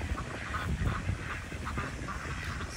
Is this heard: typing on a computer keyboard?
no